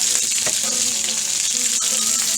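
Onions sizzle hard in hot oil in a pan, a close, steady crackling hiss with faint stirring scrapes and no one speaking.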